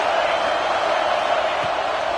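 Dense, steady crowd roar filling a football stadium in a college football video game, Iowa playing against the computer, a continuous wash of cheering with no distinct breaks.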